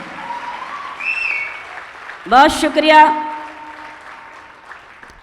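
A brief burst of audience clapping rises for about a second amid a speaker's voice at an Urdu poetry mushaira in Kuwait, then fades as the talking continues.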